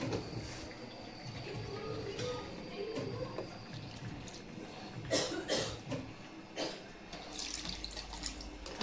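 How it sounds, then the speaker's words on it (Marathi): Tap water runs into a mixer jar as it is rinsed, a soft continuous splashing at moderate distance with a few brief bumps and clatters, fairly quiet throughout. "आपण फक्त मिक्सरचं भांडे धुवून तेवढंच पाणी घालणार आहोत."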